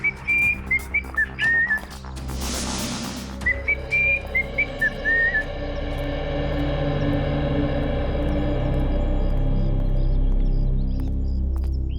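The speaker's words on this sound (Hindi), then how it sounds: "बड़े आराम से सीटी बजाते आ रहे हो" A person whistles a short, bright tune in quick broken phrases twice over a steady low hum, then stops and the hum continues alone.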